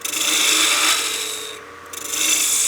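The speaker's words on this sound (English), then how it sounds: "We'll be using that spindle gouge." Spindle gouge cutting a spinning wood blank on a lathe while turning a German smoker ornament, a steady close rasping scrape that eases off briefly midway, then resumes at full strength.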